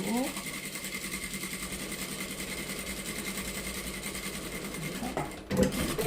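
A sewing machine backstitches a seam on a fabric face mask, running as a steady, fast mechanical chatter through most of the stretch before a brief pause and restart near the end.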